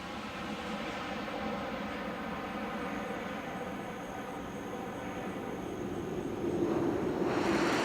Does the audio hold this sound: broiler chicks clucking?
no